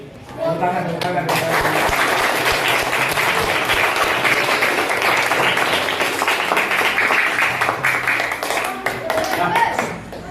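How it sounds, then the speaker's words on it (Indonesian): Applause at an elementary school event with soldiers from the army, a dense burst of clapping that sustains loudly for about eight seconds with voices mixed in, then tapers off. "Give applause."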